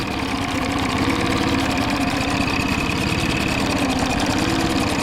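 A 2020 Mercury 20HP EFI outboard motor idles close by in a steady, even drone with a fine rhythmic chug, holding level throughout with no voices.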